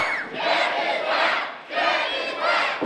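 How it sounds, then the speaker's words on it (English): Wrestling crowd at an NWL championship match chanting in loud rhythmic waves, two clear swells of voices rising and falling together in a packed venue. "Crowd chanting, Dak is whacking."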